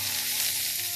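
Finely chopped onion and cumin seeds sizzle in a hot pan of oil for paneer, a steady close hiss of frying that runs without pause.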